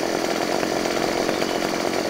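A chainsaw in the video game Farming Simulator cuts steadily through a decent-sized log, a continuous loud buzzing drone that holds even for about two seconds with no break.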